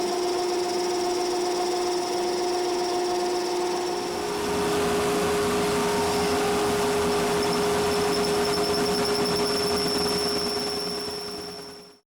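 A dust collection system runs while a pen is turned on a wood lathe, giving a loud, steady roar with a high whining tone that swells slightly midway and then cuts off at the end, with no voices.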